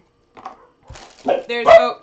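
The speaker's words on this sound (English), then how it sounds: "sorry, Ichi's barking" A pet dog barks indoors during a board game unboxing: one or two sharp, close barks after a few soft, muffled sounds, with the room otherwise quiet.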